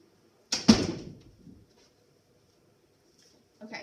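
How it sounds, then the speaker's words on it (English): A door is shut indoors at night with one sharp thud and a quick second knock that fade into a short rattle, then quiet, and a faint scrape at the very end. "I'm going to shut my door even though it's 8 o'clock at night"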